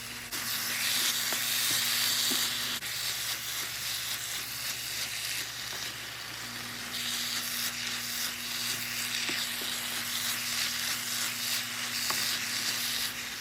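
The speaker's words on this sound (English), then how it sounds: "I can add the ground beef and mix it till it's cooked" Ground beef sizzles and fries steadily in a pan with reduced parsley and onions, a continuous close hiss with faint scraping of stirring, no voices.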